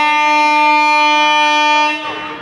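A train at Harishchandrapur station sounds a loud, close, steady horn blast lasting about two seconds before it cuts off and leaves fainter rumbling; no one speaks.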